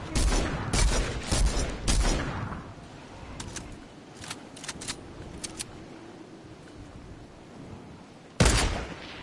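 Assault rifle fire in a video game, several rapid bursts early, then scattered short shots and a final loud burst, sharp and close with no talk.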